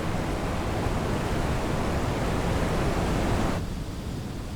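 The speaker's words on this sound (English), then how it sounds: "A waterfall." Waterfall of fast-running water, a dense, continuous roaring rush that holds steady and then eases slightly near the end.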